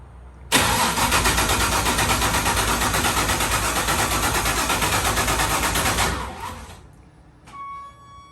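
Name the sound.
408 stroker engine first start and idling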